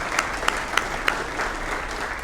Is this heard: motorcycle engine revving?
no